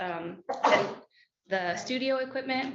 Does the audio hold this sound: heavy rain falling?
no